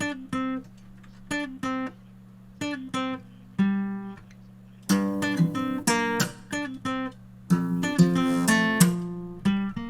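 A clean guitar plays a plucked melody of distinct notes, sparse at first then busier and denser, close and clear with no voices.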